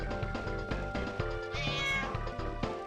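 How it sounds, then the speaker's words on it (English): A cat meows in Metal Gear Solid: Portable Ops on PSP, a drawn-out tonal cry rising above a dense, rhythmic game soundtrack. "That's a bad place for a cat to be."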